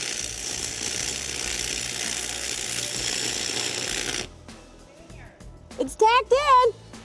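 An arc stick-welds a tack on a steel parade-float frame: a loud, steady crackling sizzle runs for about four seconds, then cuts off abruptly, followed by quiet shop noise and people talking.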